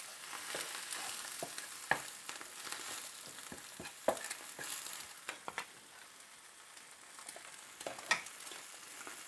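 Greens frying in butter, a constant crackling sizzle with sharp pops and the scrape of a utensil stirring the pan, close and steady.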